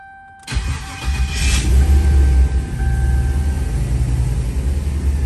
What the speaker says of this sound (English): it's comical how quiet this car is with the exhaust closer